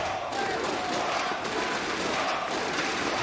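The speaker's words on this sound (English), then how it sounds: "We've got to love when one fan screams for mousesports and the entire crowd responds with Virtus.Pro" Large arena crowd at a CS:GO grand final between mousesports and Virtus.Pro, a loud, sustained mass of voices chanting and roaring together, dense and continuous throughout.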